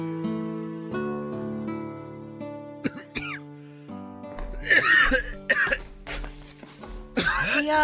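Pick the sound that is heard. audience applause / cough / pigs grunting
cough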